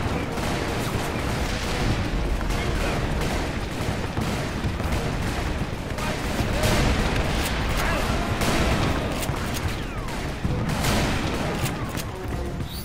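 Rifle gunfire in Call of Juarez Bound in Blood, a dense run of sharp repeated shots and booming reports over a constant loud battle backdrop, with a voice talking beneath.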